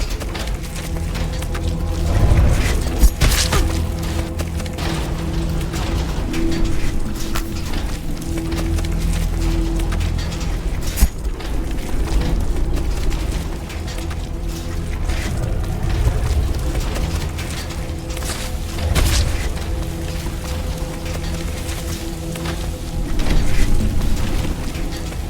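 Earthquake tremors in the video game Edge of Sanity, a loud, continuous low rumble with scattered heavier booms and jolts running throughout.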